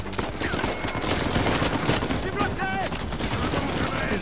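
A turret in Uncharted 4 fires in dense, continuous bursts of video game gunfire, loud and sustained over the whole stretch, with other game sounds and a voice faintly mixed underneath.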